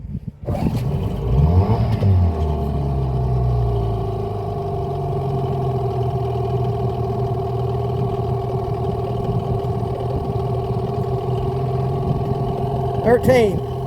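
A Hangkai 18 outboard motor runs steadily, its engine tone rising and falling as the throttle is opened and revved, loud and close throughout with a brief surge near the end.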